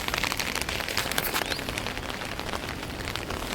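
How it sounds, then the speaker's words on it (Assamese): Heavy rain pouring onto a building rooftop, a dense, steady hiss of drops that stays loud and even throughout, with no voices. "বৰষুণ দি আছে আজি গোটেই ৰাতি বৰষুণে দি আছে"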